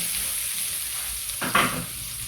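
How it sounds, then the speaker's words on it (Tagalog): Onion and garlic sautéing in a hot pan for pancit palabok, a steady sizzle with a brief louder burst of frying as the ingredients are stirred. "gisa na natin yung sibuyas bawang"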